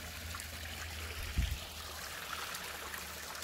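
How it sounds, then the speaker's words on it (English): A creek flowing under a road gives off a faint, steady trickle and wash of water, heard alone and at a distance, with one brief low thump partway through. "And this is where the creek comes under the road."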